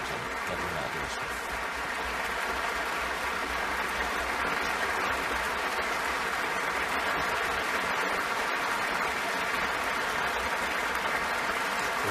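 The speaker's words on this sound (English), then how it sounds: "Prize to Alexievich, who receives a lot of applause here in the Stockholm Concert Hall." A large audience in the Stockholm Concert Hall applauding at the Nobel Prize ceremony, a dense, sustained roar of clapping filling the hall at full strength throughout.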